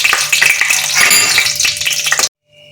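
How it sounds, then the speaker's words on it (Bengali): Whole spices spluttering in hot ghee, a loud close crackling fry with rapid pops that cuts off abruptly before a moment of near silence. "ঘি ঢাললাম, এরপর আমি গোটা মশলাগুলো সব দিয়ে দিচ্ছি এখানে"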